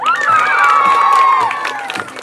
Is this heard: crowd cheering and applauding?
yes